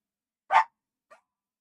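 A single sharp dog bark at a ball, followed by a much fainter short yip about half a second later, in otherwise quiet surroundings.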